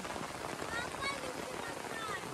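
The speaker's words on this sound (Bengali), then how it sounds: "বাম্পার বৃষ্টি এখানে, মানে এতটা পরিমাণে বৃষ্টি যে মানে কিছু বলার নাই" Dense, continuous hiss of heavy rain pouring down, steady and enveloping with no break.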